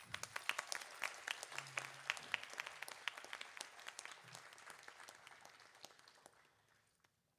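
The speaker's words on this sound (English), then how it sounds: "Let's wish Divya and Radhika good luck with their performances this evening with a very big round of applause" Applause from an audience at a Bharatanatyam dance recital, dense clapping sustained for about seven seconds before fading out, with faint voices underneath.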